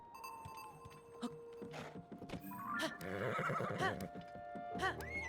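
Horse in the video game Zelda: Tears of the Kingdom, with several loud whinnies and neighs over clip-clop hoofbeats, layered with game music and effects.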